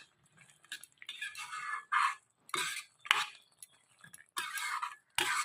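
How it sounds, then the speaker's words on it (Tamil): Tomato pickle being stirred in a pan: a series of scraping, clinking strokes of a spoon against metal, in uneven bursts separated by short pauses, fairly close and with no talking. "நல்லா கலந்து விடுங்க."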